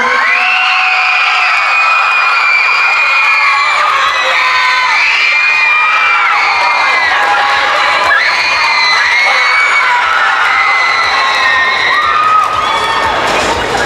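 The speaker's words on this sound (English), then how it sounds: "Can we get a big round of applause for all the cosplayers right now?" A loud crowd at an anime night market cosplay contest in a mall, cheering, whooping and shouting continuously with children's shrill voices, a little clapping mixed in.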